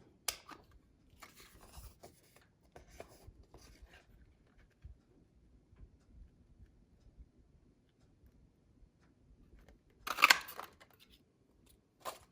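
A paper punch bites through Designer Series paper during greeting-card making: one sharp, crunchy punch near the end, preceded by faint handling rustles and small ticks in a quiet room.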